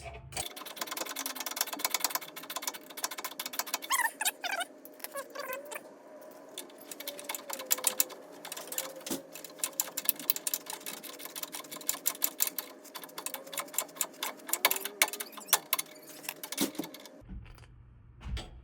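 Ratchet clicks from a 5/8 socket tightening a sway bar bolt on a 2014 Ram 1500 pickup, rapid bursts of close, crisp clicking with brief pauses, steady through most of the stretch before stopping.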